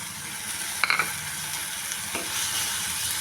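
A spoon scrapes and stirs soaked moong dal into green sundakkai in a pan, with a couple of sharp clinks against the metal over a faint steady sizzle.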